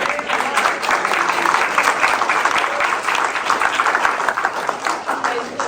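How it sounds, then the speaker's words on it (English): Sustained audience applause at an independent media forum, dense, even clapping from a crowd lasting throughout at steady loudness. "So we should give her a round of applause."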